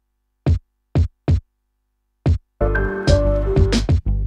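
Four isolated kick drum thumps from Logic Pro X's Drum Machine Designer, evenly spaced then a pause, followed by a denser burst of drum hits with some tonal ringing.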